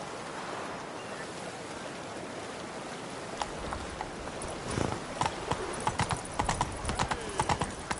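Hooves of the horse Roach in The Witcher video game, a quiet wash of surf-like ambience at first, then a rhythmic clip-clop of hooves building up and carrying on steadily toward the end.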